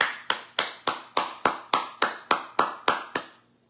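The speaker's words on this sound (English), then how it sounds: "Let's give them a round of applause." About a dozen sharp, evenly spaced claps ring out one after another in a steady beat during a sermon gathering, each crisp and close, ending with a short fading tail.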